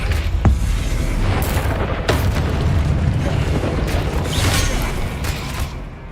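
Confringo blasting spell from Hogwarts Legacy, a loud rumbling explosion with a sharp crack at the start and a sustained booming roar that tails off near the end.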